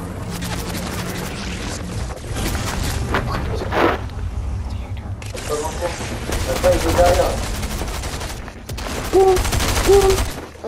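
Gunfire in the Fortnite video game, rapid overlapping shots and bursts at moderate volume amid game effects, with a voice speaking briefly.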